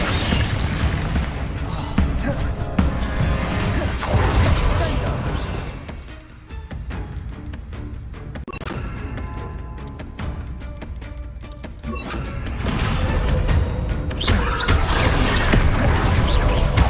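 Spell impacts in Hogwarts Legacy during a dragon fight: dense, repeated booms and crashes layered over game sound, with voices speaking over much of it.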